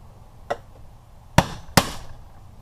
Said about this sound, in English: Take the chisel, take the hammer,